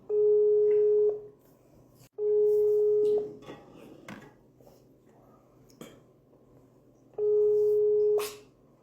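Three long, steady electronic tones with pauses between them, a phone ringback heard while a call connects, with faint background noise.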